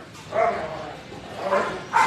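Dogs at an animal shelter during an after-hours playtime, giving two or three short barks spaced out over a low background hum, fairly close.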